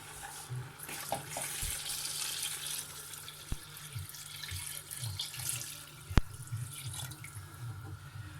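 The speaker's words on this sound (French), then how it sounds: "Je recouvre d'eau." Water runs into a pot of beef and carrots to cover them, a continuous close splashing pour with a couple of sharp metallic knocks against the pot.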